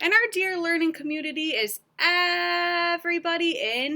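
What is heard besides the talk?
No everyday noises stand out.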